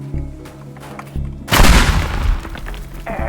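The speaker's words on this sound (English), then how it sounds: "I accidentally blew up the propane" A propane tank explodes in the destruction video game Teardown, a sudden loud boom with a crackling, debris-filled tail that fades over a couple of seconds, set against quieter game sounds.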